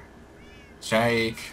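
A cat meows once, loud and close, in Minecraft running the FTB Unleashed modpack. A voice says a single brief word just before it.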